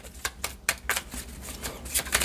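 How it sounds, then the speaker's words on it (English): Tarot cards from a handmade deck shuffled on a desk, a run of sharp riffling bursts and taps that jostle the desk, close and crisp with no talk. "when I shuffle the cards here, it shakes the desk"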